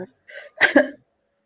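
A short raspy cough, two quick harsh bursts after a brief throat sound, then silence.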